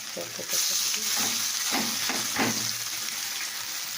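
Pieces of green chili frying in bubbling hot oil, a steady close hiss and sizzle with a few soft stirring knocks, louder after the first half second.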